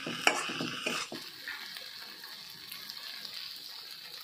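Potatoes frying in a pan are stirred with a utensil, a few scraping clinks at first giving way to a soft, steady sizzle, quiet and close.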